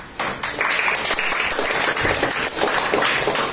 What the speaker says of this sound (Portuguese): Quem gostou pode aplaudir.